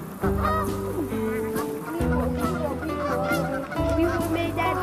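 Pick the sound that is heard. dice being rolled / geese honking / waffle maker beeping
geese honking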